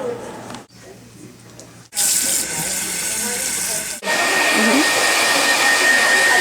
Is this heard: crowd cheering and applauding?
no